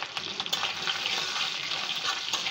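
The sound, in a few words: boiled dried fish (shutki) frying and being stirred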